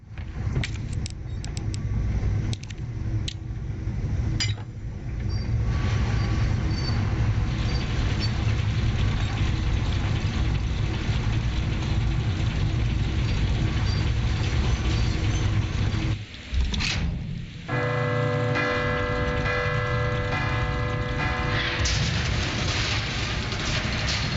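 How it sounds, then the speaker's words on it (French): Gear mechanism turning and a bell dropping in Resident Evil 2, a long steady mechanical grinding drone with brief clanks and a sharp break near the end before metallic ringing tones, no speech. "Maintenant on va mettre le petit rouage. Et la cloche elle va tomber."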